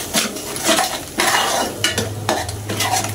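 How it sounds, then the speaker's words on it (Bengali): Eggs fry on a low flame in a pan and are stirred, giving a loud, close sizzle punctuated by repeated scraping and knocking strokes of a utensil against the pan. "এখন আমি ডিমগুলোকে সুন্দর করে একদম লাল লাল করে একটু ভেজে নেব।"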